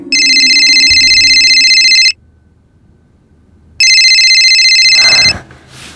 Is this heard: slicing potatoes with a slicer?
no